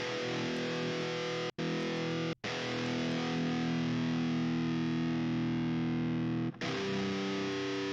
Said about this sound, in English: If you hear the guitar, which was just doing chords, we had it going like this.